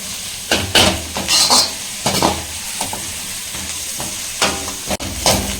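Onion and green chilli sauté in a pan with a steady sizzle, as a spoon scrapes and knocks against the metal in repeated strokes, close and clear with no talking.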